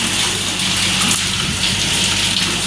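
Dense, steady rush of heavy rain pouring down, loud and close, leaking through a roof indoors, with water splashing continuously on a hard surface and into a container.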